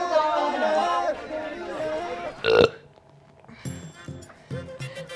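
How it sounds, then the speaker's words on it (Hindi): A man lets out a loud, drawn-out burp between stretches of comic domestic argument, the belch standing out sharply near the middle before quieter chatter and movement resume. "या तो ये आदमी दिन भर पाता रहेगा या डकार मारता रहेगा।"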